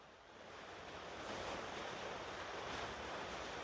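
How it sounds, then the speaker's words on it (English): Steady heavy rainstorm pouring down outside a garage during an engine build, a dense, even broadband wash that swells slightly and then holds, close and loud with no talk. "You guys hear that? Good old rainstorm."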